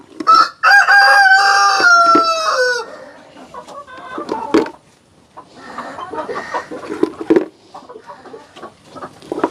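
A rooster crows loudly up close, followed by a busy stretch of chickens clucking and squawking at varying volumes.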